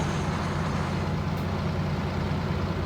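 A Mack R truck's diesel engine in American Truck Simulator runs with a steady, loud, deep rumble that holds constant throughout, with no talking.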